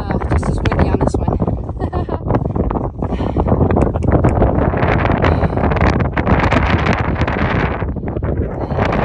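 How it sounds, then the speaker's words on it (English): Strong wind roars across a mountain peak on the Appalachian Trail, a loud, steady buffeting that batters the microphone without a break, with someone speaking briefly over it. "Just as windy on this one."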